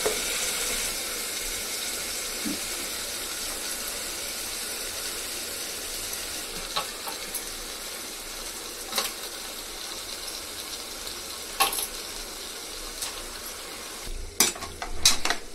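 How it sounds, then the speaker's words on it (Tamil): Chicken pieces fry in a pan of cooked-down tomato gravy for chicken curry, a steady soft sizzle running throughout with occasional sharper clinks and scrapes of a utensil near the end. "இந்த டைமில் கறி போடணும். கறி போடுவேன்."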